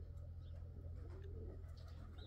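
Pigeons coo softly in a loft, low murmuring calls repeating under a constant droning hum of background noise, fairly faint and close.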